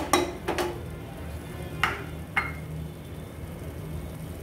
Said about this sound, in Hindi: ये देखिए मसाले अच्छे से भुन गए हैं